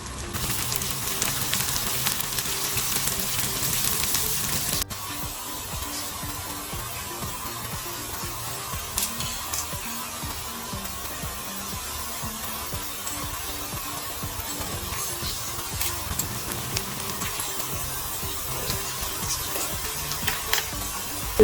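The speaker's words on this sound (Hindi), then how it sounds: "यहाँ पे चला जाएगा 2 टीस्पून जीरा। ये चीज़ें बहुत ज़्यादा अच्छी तरह फ्राई होंगी।" Steady crackling sizzle of cumin seeds frying in hot oil for a tempering, loud and continuous throughout, briefly fuller at the start before settling into an even hiss.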